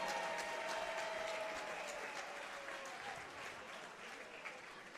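Applause for both boxers fills a professional boxing event at the Hilton in downtown Tampa, a dense wash of crowd clapping that starts strong and slowly thins over five seconds, with a brief faint tone audible early on.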